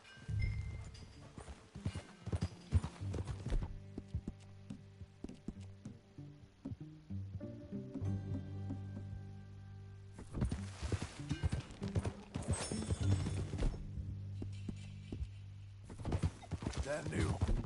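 Hooves clip-clop in quick, uneven bursts as a horse is ridden in the Western video game Red Dead Redemption II, loud in stretches with quieter gaps and a faint whinny between.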